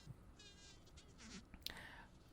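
A magnified, looped field recording of a mud-dauber wasp at close range on its nest, with a thin buzzing drone and faint crackles, soft and close, with a brief sharp click near the end.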